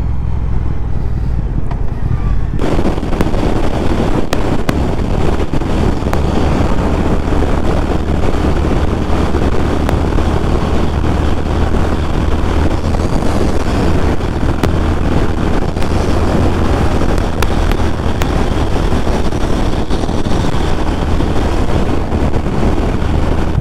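A Triumph Thruxton R motorcycle rides up to speed on a windy day, heavy wind buffeting over the microphone swamping a steady engine drone, loud and continuous throughout.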